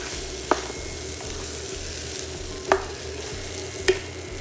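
A spoon scrapes and stirs crab fried rice with shrimp in a hot pan, a steady close sizzle broken by three sharp clacks of the utensil against the pan.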